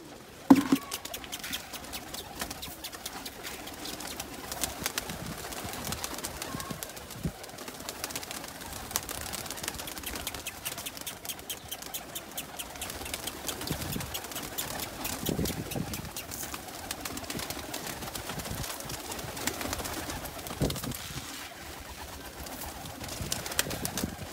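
Pigeons coo and shuffle nearby while millet is scattered for them beside a water dish, a busy mix of soft cooing, wing flutters and pecking patter throughout.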